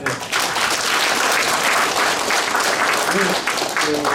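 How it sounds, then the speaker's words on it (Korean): Applause from the audience at a Korean commemorative academic seminar, a dense sustained burst of many hands, with a few faint voices and a brief tonal sound near the end. "여기 한번 박수 한번 쳐주시죠"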